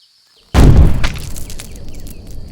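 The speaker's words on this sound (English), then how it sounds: "This explosion right here actually exists out of multiple layers." A sudden, loud, close explosion bursts out of near silence with a deep booming blast, then settles into a crackling, rumbling tail of falling debris.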